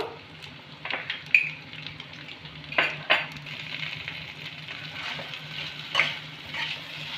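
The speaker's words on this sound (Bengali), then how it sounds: "মশলাগুলোকে একটু আমি কচুর সাথে মিশিয়ে নিলাম।" Taro pieces stirred with turmeric, salt and chili powder in a pan: a soft steady sizzle with scraping strokes of a spatula and occasional clinks against the metal, close and moderately loud.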